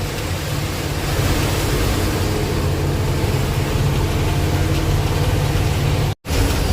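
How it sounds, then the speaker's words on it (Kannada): Sea waves at Kundapura beach in the rain make a constant, loud, even wash of noise with no speech, briefly cutting out near the end. "ಬೀಚ್ ಹತ್ರ ಬಂದಿದ್ದೀನಿ ಕುಂದಾಪುರ ಬೀಚು"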